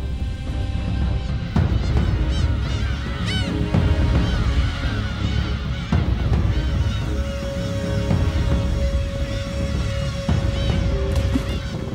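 Black-tailed gulls call repeatedly over a cliffside breeding ground while a falcon chases them, their honking, mewing cries overlapping against steady wind and sea noise.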